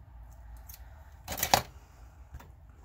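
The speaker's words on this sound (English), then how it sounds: "we can just take our scissors and trim those edges." A quick snip of scissors trimming the edges of scrapbook paper, a short crisp burst amid faint rustling, with a lighter click afterward.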